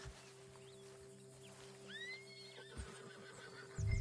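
A horse whinnies with a rising, wavering call in a PS4 video game, set against a steady low hum, with a heavier thump and rumble near the end.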